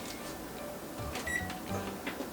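An oven's control panel gives short electronic beeps as it is set to preheat to 350 degrees for an apple cake, a few faint tones over a steady room hum.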